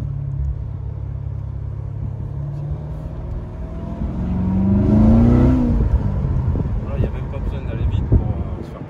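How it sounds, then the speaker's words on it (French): A Corvette C7 Stingray V8 idling with a deep low rumble that swells into a rev and then settles back, heard close up with people talking over it. "Écoutez les gars. Exceptionnel. Un V8."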